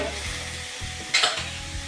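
A spatula stirs a coconut and sugar laddu mixture frying in a hot wok, with scraping strokes over a constant sizzle and one sharper, louder scrape near the middle.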